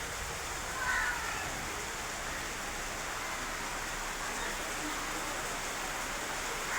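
Heavier monsoon rain pours in a steady broadband hiss, faint and unbroken across the whole stretch, with a faint bird call near the start.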